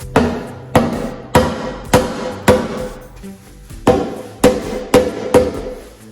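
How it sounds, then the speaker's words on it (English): Repeated dull thuds of a rubber hammer striking the metal of a 1969 Ford F100 engine during teardown, about a dozen evenly spaced blows in a steady rhythm, close and fairly loud. "give this thing just a couple of taps with the rubber hammer"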